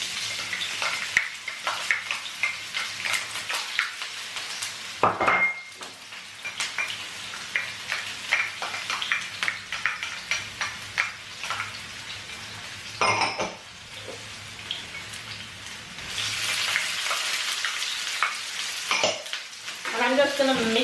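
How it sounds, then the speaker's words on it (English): Seasoning frying in olive oil before shrimp is added, a close steady sizzle with frequent stirring scrapes and occasional clinks of a utensil against the pan over about twenty seconds. "I'm just gonna mix this around to get all these flavors out nicely"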